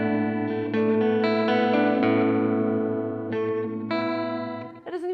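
Electric guitar runs through a Red Panda Raster 2 delay pedal in reverse mode, producing sustained chords with swelling, smeared repeats and a shimmering modulated wash, steady and close, with a few new chord attacks and a brief swell at the end.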